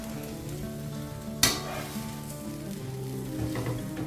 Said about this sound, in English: we will fold the paratha in half, flip it like that